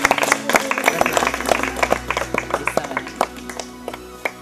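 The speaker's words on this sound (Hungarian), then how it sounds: "Gratulálunk, nagy tapsot neki!" Group applause for a team member receiving a gift at a community day event: dense, fast clapping from many hands, close and fairly loud, with some voices mixed in.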